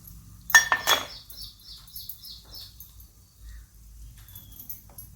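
Besan, dal and salt being stirred together for a Diwali thin-poha chivda, giving a short cluster of close metallic spoon-and-pan scrapes followed by quieter kitchen background.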